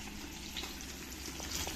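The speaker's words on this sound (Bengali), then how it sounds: "এই যে মাছ ভাজা হচ্ছে" Pieces of fish, such as pabda and katla, frying in a pan, giving a steady, close crackling sizzle with no voices.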